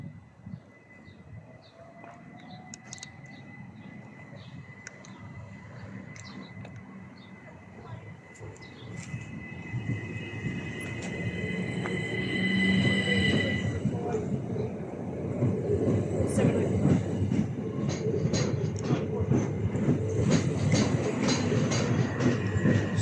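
A Class 375 electric train at Dover Priory station rumbles and builds, clattering louder toward the end, with a faint announcement-like voice and chirps early on.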